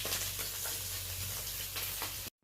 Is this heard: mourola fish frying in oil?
yes